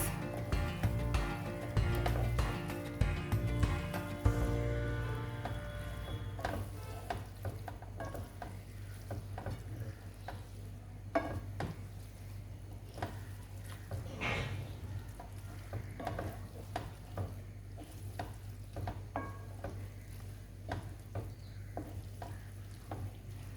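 Food stirred as it fries in a pan, a steady close sizzle with scraping and stirring strokes throughout, louder at first and then settling into a continuous crackle, with no talking.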